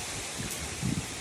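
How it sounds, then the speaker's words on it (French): Wind on a sunny autumn day blows as a steady broadband rush, with soft gusting swells and rustling, moderately loud and close to the microphone, no voices. "Mais c'est drôlement venteux aujourd'hui."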